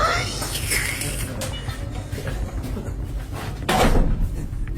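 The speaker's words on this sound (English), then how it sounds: "Ooh, shut that door." A door bangs shut indoors with a loud, close thud about two thirds of the way in, after a stretch of low rumbling room noise and faint creaking movement.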